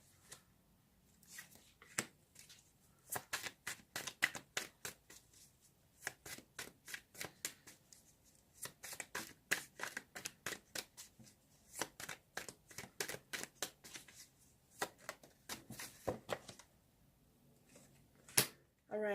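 Tarot cards shuffled in quick bursts of crisp riffling flicks, repeated in a steady rhythm over about twenty seconds with short pauses between runs, close and moderately loud with no talking.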